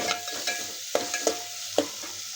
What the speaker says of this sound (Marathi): टोमॅटो प्युरी करून घेतली ती टाकून घ्यायची। चांगलं तेल सुटेपर्यंत परतून घ्यायचं।